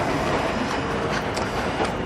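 Train at a Dutch railway station, a loud, continuous rumble of rolling wheels and carriage noise filling the moment without talk.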